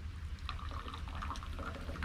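Water is poured into a KFlow portable espresso maker outdoors on the trail, a soft, steady trickle and splash under a low background rumble, quiet throughout.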